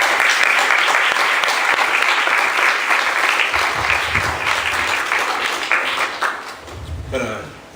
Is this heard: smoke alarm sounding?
no